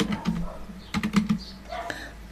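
Several quick bursts of keystrokes on a computer keyboard, close and moderately loud, with brief pauses between clusters and a faint room hum underneath.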